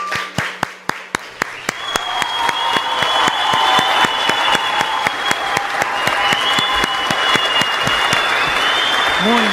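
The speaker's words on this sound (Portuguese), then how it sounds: "Palmas para ela," Live radio show studio: a few sharp separate claps open, then swell into steady applause mixed with cheering and whistles that holds to the end.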